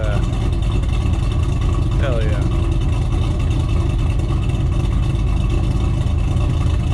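The engine of a 2016 Ford F-150 truck idles with a steady, low, throbbing, choppy rumble close by, while someone briefly speaks over it.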